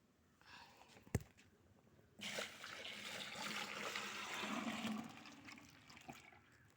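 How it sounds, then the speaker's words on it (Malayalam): A sharp knock, then rubber latex pours steadily into a bucket for a few seconds with a rushing, gurgling flow, close and fairly quiet. "ഈ ബക്കറ്റിൽ ഒരു ബക്കറ്റ് പാല് അതിലകത്തോട്ട് ഒഴിക്കണം."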